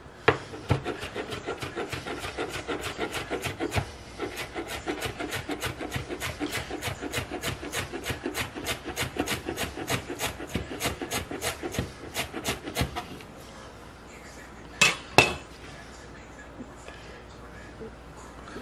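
Knife slicing fresh dill on a cutting board, a fast even run of crisp chopping strokes that carries on for most of the stretch, then two louder taps before it goes quiet.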